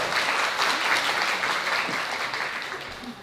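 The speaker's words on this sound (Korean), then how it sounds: "박수 부탁드리겠습니다" Wedding guests applaud steadily during a Korean wedding ceremony at Namsan Art Hall, a dense, sustained clapping that stays loud throughout and then eases slightly near the end.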